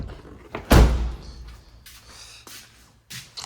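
A car door on a 2014 Ford Escape shuts with one loud, close thud, followed by faint shuffling and handling noises.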